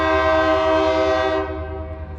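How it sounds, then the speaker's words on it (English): A train horn blares in a long, steady chord, then fades and trails off as it echoes away. "it's funny how you can hear this train horn echo"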